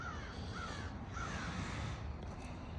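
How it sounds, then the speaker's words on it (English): A crow caws three times in clear, evenly spaced calls over a steady roar of outdoor noise, heard while checking out an old Chevrolet El Camino. "there's like a bird up here"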